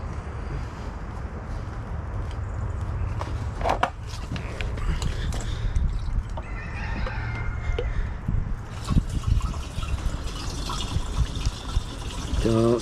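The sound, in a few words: fuel being poured into a Hobart welder generator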